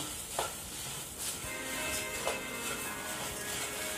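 Spiced puffed rice (kara pori) being stirred and tossed in a pan, giving a steady close-up rustling, crackling texture with a few sharper scrapes against the pan and no talk.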